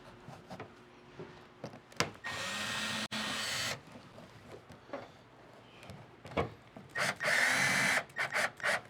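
A power rivet-nut tool sets a rib nut into the body of a 2023 Ford Transit 148 van, two sustained whirring bursts amid scattered clicks and handling knocks, close and alone.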